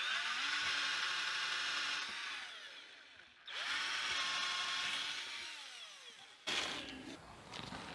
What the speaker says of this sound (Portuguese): Eu gosto de usar o escareador, pessoal, porque dá um acabamento melhor no parafuso.